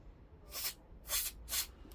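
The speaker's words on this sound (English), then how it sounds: "contact spray, and down here in the mechanical part you can use multi spray with the oil" Contact spray hisses onto parts of a 1962 Philips vacuum-tube radio receiver in three short, soft bursts, close and quiet.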